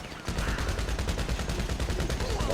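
Rapid automatic gunfire rattles without a break in a video game, loud and close, with a dense, even stream of shots and faint talk mixed in.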